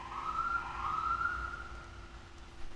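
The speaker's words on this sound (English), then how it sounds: "Apologies for the sirens." A distant emergency vehicle siren wails faintly with a steady tone that rises and falls slightly, heard indoors over low background hum with no speech.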